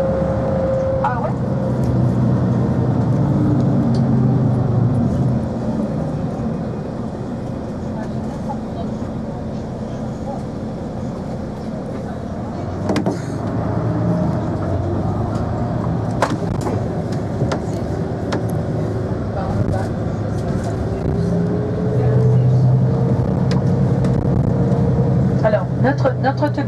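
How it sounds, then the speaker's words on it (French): A bus in Madeira drives along with a steady low engine drone and shifting gear tones, constant and close throughout, while people talk over it. "Notre autobus va nous déposer ici à l'arrêt de bus"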